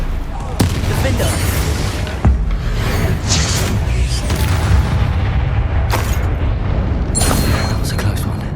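Spell blasts during Hogwarts Legacy combat on PS5: loud, continuous booming with several sharp explosive impacts punching through a thick roar of battle noise.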